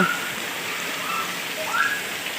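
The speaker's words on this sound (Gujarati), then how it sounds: "આ વર્ષનો આ પહેલો એવો વરસાદ છે જે સારો થયો છે." A heavy downpour, the first good rain of the season, falls on an open plot, giving a continuous dense hiss of rain with a few faint bird whistles over it.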